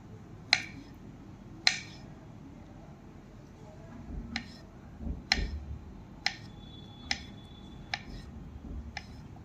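A knife cuts peeled bananas for a milkshake in sharp, separate taps on a board, about ten cuts spaced unevenly, close and fairly quiet over low room noise.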